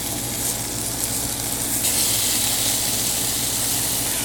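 Beef searing in a hot paella pan, a steady loud hiss and sizzle that holds unbroken throughout, brightening slightly midway.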